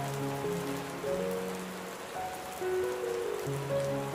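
Rain patters steadily on a balcony garden of melon and cucumber plants, a soft continuous hiss mixed with a gentle tonal melody in the background.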